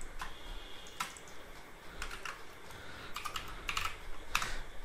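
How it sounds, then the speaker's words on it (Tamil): Text is typed on a computer keyboard, an irregular run of close, crisp key clicks with occasional heavier taps over a quiet background hiss. "நான் வந்து ஜஸ்ட் வந்து அந்த டெக்ஸ்ட்டை மட்டும் டைப் பண்ணிக்கிறேன்."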